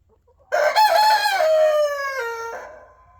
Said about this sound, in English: There, he'll crow now.